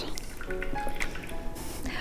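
Hazelnut milk squeezed by hand from the nut pulp, with soft irregular drips and trickles of liquid falling into a jar, faint and close under low background noise.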